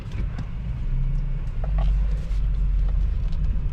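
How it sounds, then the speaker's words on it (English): Air compressor running in a garage while working on a 2022 Sea-Doo Spark Trixx, a steady low mechanical rumble that swells and holds loud and close throughout. "we're bumping up the compressor right now so we can actually take the stupid bolt off."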